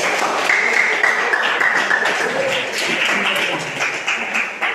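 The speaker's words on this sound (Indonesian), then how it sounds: "Oke, luar biasa, tepuk tangan." A classroom of students applauds during an Indonesian history lesson, a dense, steady patter of many hands clapping at close range with a few voices rising faintly underneath.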